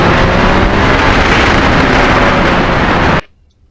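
A Yamaha MT-09 three-cylinder crossplane motorcycle on a spring ride, loud steady engine roar mixed with heavy wind rush that cuts off abruptly near the end into near silence.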